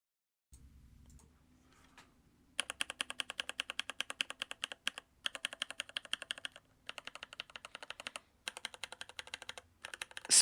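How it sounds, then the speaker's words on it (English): Rapid keyboard typing clatters in fast bursts of sharp clicks, close and clear, with brief pauses between runs of keystrokes. "I'm doing a keyboard test, Jacob."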